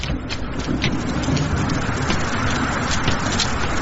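Heavy rain pours down in a dense, loud, unbroken hiss, close and steady throughout.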